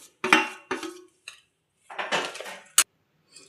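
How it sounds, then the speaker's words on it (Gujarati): A spoon mixes laha ladva mixture into one-string sugar syrup in a pot, making short bursts of metallic scraping and clinking with brief quiet gaps between strokes. "સરસ રીતે મિક્સ કરી લેશું."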